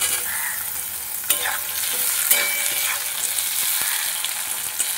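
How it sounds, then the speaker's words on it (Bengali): Chopped tomato going into a pan of frying onions and potatoes for a rohu fish curry, with a steady close sizzle, a few sharp knocks of a spatula against the pan and bursts of stirring. "এবার টমেটো কুচি দিয়ে দেবো"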